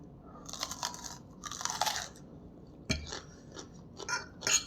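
Someone is eating and biting into raw onion at a late dinner, giving a few close, wet, crisp crunches in short bursts with brief pauses between them, and nobody speaks.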